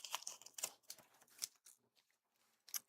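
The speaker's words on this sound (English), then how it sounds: "But just taking off the tape around there." Masking tape comes off watercolor paper in a handful of soft, quiet, papery rips and crackles, separated by short pauses.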